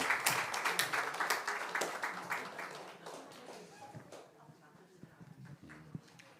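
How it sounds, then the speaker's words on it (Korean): Church congregation members at a Sunday worship service clap together in a burst of applause that starts loud and gradually thins out, with scattered claps and murmuring voices lingering at the end. "박수 쳐주시기 바랍니다."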